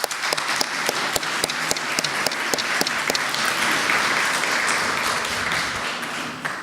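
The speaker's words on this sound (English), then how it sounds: "let's give them a round of applause as well" Audience applause for poetry contest winners in a hall, several crisp individual claps at first that build into a steady, dense round of clapping lasting several seconds with no talk.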